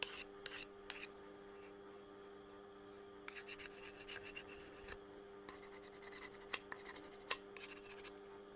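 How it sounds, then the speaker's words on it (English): A diamond file rasps across the edge of a soft steel burger scraper to remove the burr, giving short bursts of scraping strokes, quiet at first and then a denser run of repeated rubbing passes close by. "I'm just taking the burr off with my diamond file."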